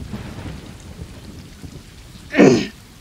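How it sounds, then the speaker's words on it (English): Rain and a rolling thunder crack from the video game Stray, with a soft patter of rainfall followed by one loud, short rumble of thunder near the end. "It's raining!"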